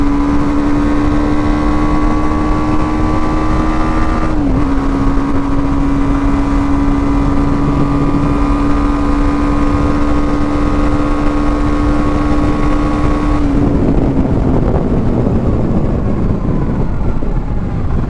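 A BMW G310 GS motorcycle engine drones loudly and steadily while riding, holding a constant high-revving tone before a brief shift dip and a drop in revs near the end, with heavy wind rush throughout.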